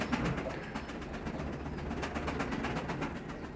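Pigeons in a loft coo and burble in a dense, continuous chorus, with soft wing flutters and background rustling throughout, close and steady with no talking.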